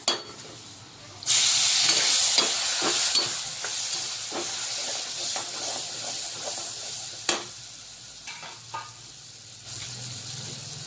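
Chopped tomato drops into hot oil in a pan for a garlicky gram-flour potato dish, setting off a loud sizzle that holds steady and then eases, with stirring clinks and scrapes throughout.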